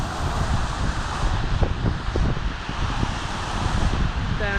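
Cold wind gusts outdoors near a mountain in Scotland, buffeting the microphone with a steady, rough roar and faint rustling, with no voices.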